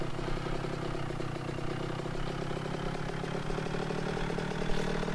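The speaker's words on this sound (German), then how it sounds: "Ich liebe dieses rote Motorrad." A red motorcycle idles with a steady mid-pitched engine hum and faint clatter in the Operation Flashpoint video game. It is continuous and fairly quiet, with no speech.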